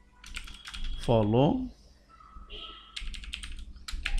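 Clicky keystrokes on a computer keyboard while writing Python code, quick bursts of taps under someone speaking Bengali, with a pause in the middle.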